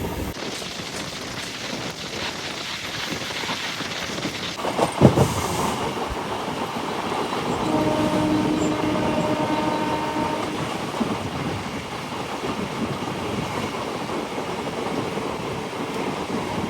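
Riding aboard a MEMU passenger train from Bhimavaram toward Nidadavolu as it enters Manchili station, there is a continuous close rumble and clatter of wheels on rails. A sharp bang comes around the middle, with a faint squeal later.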